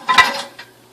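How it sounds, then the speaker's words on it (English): Metal whisk clinking against a bowl as ingredients including basil and water are mixed, a quick cluster of close scraping taps followed by one lighter tap, with no talking. "I'm going to just whisk everything together here"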